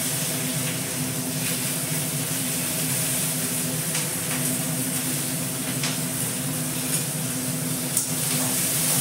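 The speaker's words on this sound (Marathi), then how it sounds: "आता टाकते जिरं आणि आपली लसूणची पेस्ट." Cumin seeds and garlic paste sizzle steadily in hot oil in a pan, a continuous close frying hiss with a few faint clicks and no talking.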